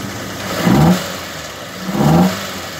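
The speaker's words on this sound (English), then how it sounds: "Hey, rev a bit more, rev a bit more." A 2002 Proton Satria 1.3 GLi engine revs twice in close succession, each blip rising and falling over a steady idle, heard close and loud with no talking.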